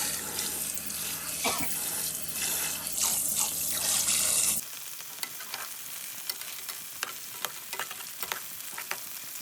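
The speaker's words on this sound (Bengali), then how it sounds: "মাছগুলোকে হলুদ মরিচ আর স্বাদ মতো লবণ দিয়ে ভেজেও নিলাম" Fish coated in turmeric, chili and salt frying in hot oil in a home kitchen, with steady sizzling and crackling, plus stirring and clattering that go on after a louder running-water stretch ends.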